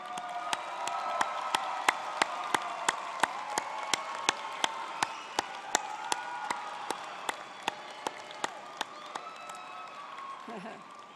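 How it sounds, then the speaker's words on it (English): An audience claps at a 2019 Truckee Meadows Community College commencement ceremony, a steady wash of many hands heard from a distance with sharp regular clicks running through it, then tapering off near the end. "Applaud those special individuals who helped you along your important journey."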